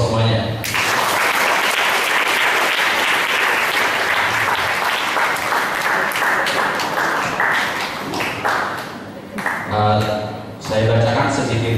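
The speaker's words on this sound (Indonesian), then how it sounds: "Aplaus semuanya." An audience applauds a novelist speaker at a book event, with dense, sustained clapping that fills almost the whole stretch, dipping briefly near the end before swelling again.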